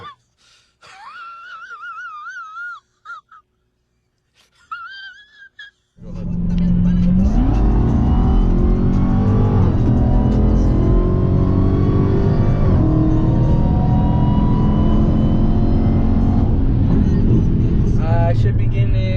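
A Dodge Hellcat with a Legmaker intake: after a few seconds of voices, the engine erupts into a loud, sustained roar with a rising supercharger whine that holds close and strong to the end.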